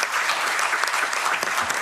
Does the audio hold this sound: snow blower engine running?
no